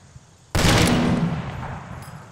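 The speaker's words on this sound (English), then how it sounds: "I'm just trying to shoot him." A burst of gunfire from a gun in the video game ARMA 2 erupts loud and sudden, a heavy blast with a ringing tail that slowly fades over the next couple of seconds.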